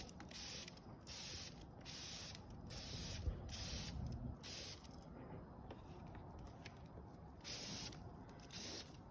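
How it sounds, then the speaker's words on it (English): Lanoguard rust protection being applied with a sprayer gives bursts of hissing spray that start and stop repeatedly, with mechanical creaks and clicks from the sprayer underneath throughout. "The sprayer gives a really nice pattern, and it covers a lot of area really fast."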